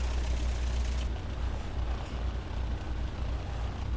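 A parked truck's air brake sets with a short hiss of released air over the low rumble of the idling diesel engine, close and steady.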